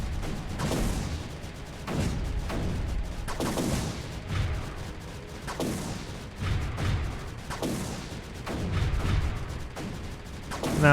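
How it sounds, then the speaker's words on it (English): Repeated cannon blasts in the strategy game Creeper World 3, booming bursts about every second or so across the whole stretch, loud and dense with a steady rumbling bed underneath and no talking. "Let's push these cannons out."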